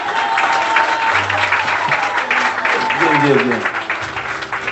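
An audience applauds together with a brief spoken word and some tonal voices or music mixed in. The clapping is loud and close, then thins toward the end.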